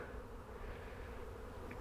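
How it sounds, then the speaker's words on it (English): Robber bees fly erratically around a beehive after a hard freeze, a steady close insect buzz that stays constant throughout with no other sounds. "I see some bee flight around there, but they seem to be kind of erratic flight, so I'm thinking that's probably robber bees"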